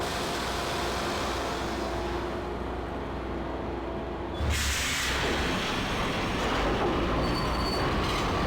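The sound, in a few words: subway train passing in video game Max Payne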